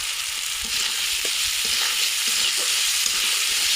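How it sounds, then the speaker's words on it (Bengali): Ginger-garlic paste with green chili, cumin powder and salt stir-fried in a pan for chickpea biryani: a steady, close hiss of frying with light spatula scrapes and taps throughout, no voices. "নাড়াচাড়া দিয়ে নেবো যাতে রসুনের, আদা রসুনের কাঁচা গন্ধটা চলে যায়।"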